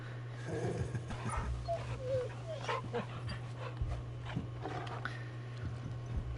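A puppy in the Final Fantasy XVI video game pants and gives soft whimpering yips, fairly faint over steady game music and ambience.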